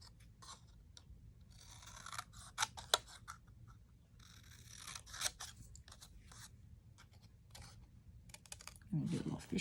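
Scissors snip through cardstock in a few crisp, close cuts scattered among quiet paper handling and small desk rustles, with a brief louder scrape near the end.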